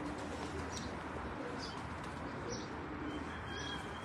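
Soft, continuous cooing from a flock of rooftop loft pigeons in the UAE, low and steady throughout, with a few faint chirps and a brief wing flutter.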